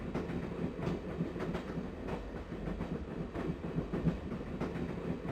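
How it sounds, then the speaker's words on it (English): A train rolls along rails in the point-and-click adventure game Broken Sword: Shadow of the Templars, a quiet, steady rumble with soft rhythmic clacks of wheels over track joints. "All right, we're on a train."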